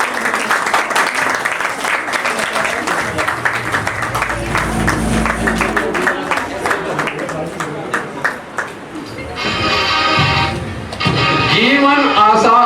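Applause from a crowd at a Jain temple ceremony as Manoj Jain comes on stage, a steady mass of clapping under an announcer's voice over music, swelling louder toward the end.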